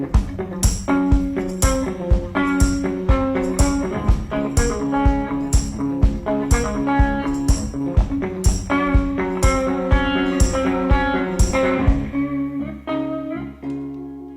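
An acoustic folk song with a steady strummed guitar rhythm and sharp percussive hits on the beat, played loud and clear for the whole stretch.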